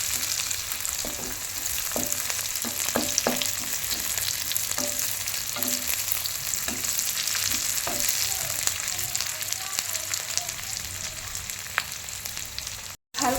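Small fish frying in a pan, a steady close sizzle broken by repeated clinks and scrapes of a spatula stirring, with a brief dropout near the end and no speech.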